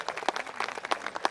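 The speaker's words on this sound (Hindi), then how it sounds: "जोरदार तालियों से आपका स्वागत इस्तकबाल करें।" An audience at a comedy poetry event in Jodhpur claps in brief welcome, a short burst of scattered, fairly close hand claps with no voices over it.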